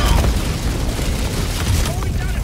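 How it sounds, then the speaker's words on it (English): A mortar turret fires in Helldivers 2, with rumbling booms and blasts packed tightly together into a loud, continuous barrage. "This put down another mortar turret"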